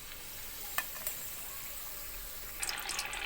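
Sabudana vada frying in oil give off a faint, steady sizzle with a few light clicks, and the sizzle brightens into a busier crackle near the end.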